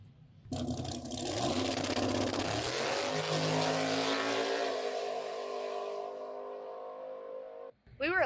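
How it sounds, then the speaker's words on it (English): A Ford Mustang launches on a drag strip for a nitrous pass on a small kit, its engine roaring up through the gears in a sustained, loud run that fades toward the end before a brief burst of noise. "All right, now let's do a nitrous pass. Gonna run it on the small kit next"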